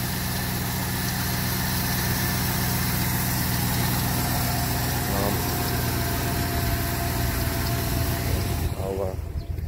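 A car's V8 engine idles with a steady, loud, close rumble that holds evenly throughout, with a slight change in tone near the end.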